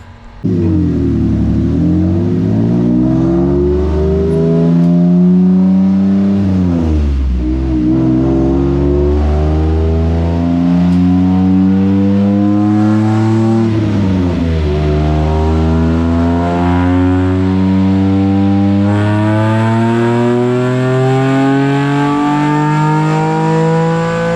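An old Ford Taurus on nitrous revs hard on a dyno, its engine climbing in pitch through repeated loud pulls, dropping back and rising again several times, close and continuous with no talk.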